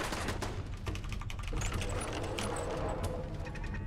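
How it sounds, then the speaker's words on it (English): An automated turret in Fallout 4 fires rapid, continuous bursts of clattering gunfire, steady and fairly distant-sounding, with mechanical rattling throughout. "Oh shit, that turret is still there."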